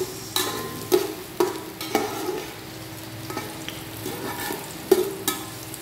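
Garlic, ginger and onions sizzle in a hot pan, with repeated sharp scrapes and clacks of a utensil stirring them at an uneven rhythm, close and fairly loud.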